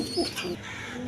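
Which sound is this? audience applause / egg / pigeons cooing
pigeons cooing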